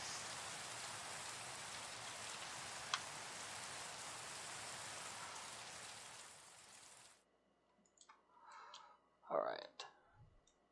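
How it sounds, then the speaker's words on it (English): Steady rain patters densely on a surface for about seven seconds, then cuts off into near quiet broken by a few faint clicks and soft thumps. "it just so happens to be raining again"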